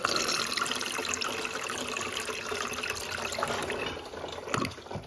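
A toilet with a full tank flushes cellophane from a grocery bag, a steady rush of swirling water for several seconds, close and loud, tapering off near the end.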